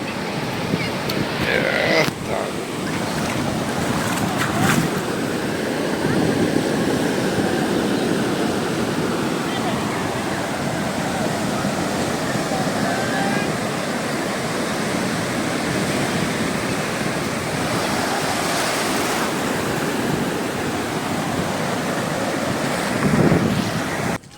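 Sea waves wash steadily onto the beach at Shankarpur, a continuous surging roar of surf with gusty wind noise across the microphone throughout.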